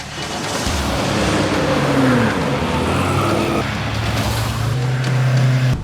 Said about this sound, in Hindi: लगता है ये गाड़ी।